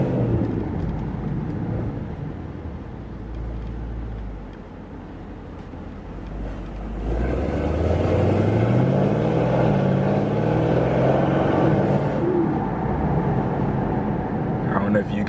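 A Mercedes-AMG E63 S with Stage 2 Plus tuning revs up hard partway through, rising in pitch as it accelerates, loud and close, with a turbo whine under the roar.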